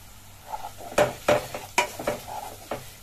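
Finely chopped onion frying in a pan for misal pav, checked after being covered, gives a soft constant sizzle broken by several sharp clinks and scrapes of a spoon stirring against the metal, close and moderately loud.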